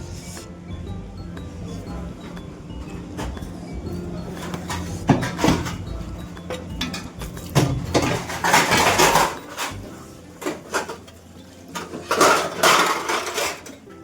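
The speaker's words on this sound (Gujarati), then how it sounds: "હવે વોશિંગ એરિયામાં અંદર આ પ્લેટ મૂકવા જઈએ" Ceramic or steel plates clatter and clink as they are set down in a hostel washing area, with repeated clustered knocks over a steady background din of a busy space.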